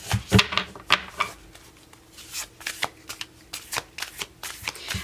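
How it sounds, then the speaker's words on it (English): Tarot cards are shuffled in a series of crisp riffling bursts and soft flicks, close and fairly quiet, with no talking. "I'm going to keep shuffling and see what comes out"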